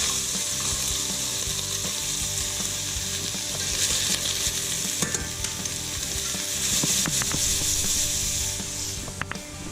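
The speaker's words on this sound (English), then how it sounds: "Whilst our carrots are cooking" Carrots fry in browned beef fat in a pan, a steady close sizzle running throughout with scattered scraping and clicking from stirring.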